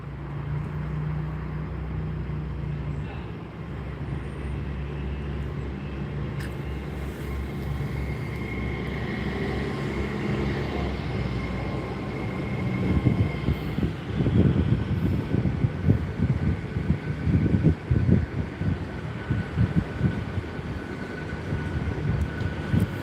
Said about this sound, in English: A few more crucial seconds before the train departs.